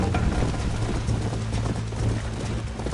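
Rhythmic hoofbeats clop steadily at a quick pace in the video game Red Dead Redemption, a horse moving along with a constant low rumble beneath.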